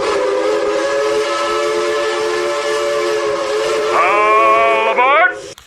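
A train whistle blows as a sound effect, a loud sustained steady tone that shifts upward to a higher pitch near the end, then cuts off abruptly.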